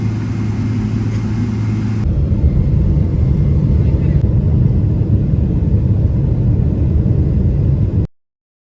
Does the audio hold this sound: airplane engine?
yes